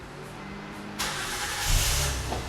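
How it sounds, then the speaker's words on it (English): A 2008-2012 Honda Accord starts by remote starter: a steady quiet background gives way to a sudden engine crank and catch, settling into a low, steady running rumble heard from close by. "Vehicle starts, doors lock."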